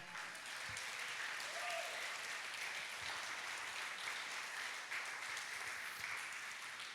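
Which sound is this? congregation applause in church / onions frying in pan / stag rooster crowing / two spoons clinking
congregation applause in church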